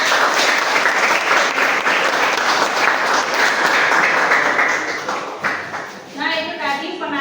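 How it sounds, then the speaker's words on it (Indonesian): A classroom audience applauds after a group's history presentation on the Majapahit kingdom, a loud sustained burst of many hands clapping that fades out, followed by a brief voice at the end. "Tepuk tangan, Bu."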